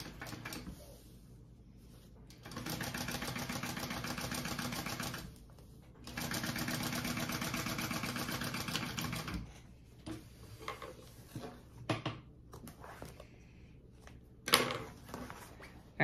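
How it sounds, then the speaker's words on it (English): A sewing machine top stitches along the back of a crossbody bag in two sustained runs of about three and a half seconds each. Between and after the runs there is softer handling and clicking of the machine. "And now you wanna top stitch along the back part of this."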